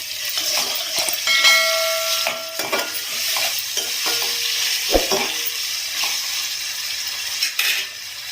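Ginger garlic paste frying with onions in a pan produces a bright, continuous sizzle with frequent scraping and stirring strokes, a few metallic clinks, and a sharp knock near the middle, all close and fairly loud.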